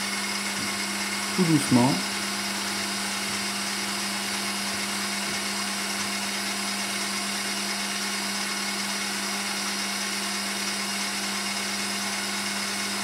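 An electric mixer whisks egg whites for Italian meringue while hot cooked sugar is poured in. Its steady motor whine runs the whole time, and a voice speaks briefly near the start.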